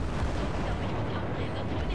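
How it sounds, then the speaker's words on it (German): A deep, rumbling explosion booms in the video game Battlefield 4, its dense low roar filling a short moment without speech over it. "Ah, die Explosion."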